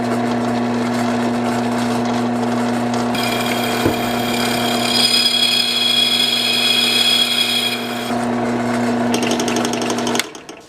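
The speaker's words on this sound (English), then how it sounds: "I like to run a small drill through first to get a pilot hole" A small pilot drill bit boring through metal with water as lubricant while fitting a Rotopax fuel and water mount to a Royal Enfield Himalayan BS4; a steady, loud, continuous whine with a pitch shift midway, alone until it stops near the end.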